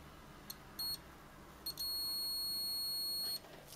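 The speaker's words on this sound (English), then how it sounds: "we can see we get a beep, which is good" A multimeter's continuity tone beeps while testing a PS4 HDMI encoder chip: two short chirps, then a brief one and a longer sustained beep of about a second and a half, clear and close in quiet.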